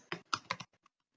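Keystrokes on a computer keyboard typing a web address, a quick burst of four close, crisp clicks followed by two fainter taps, with no talking.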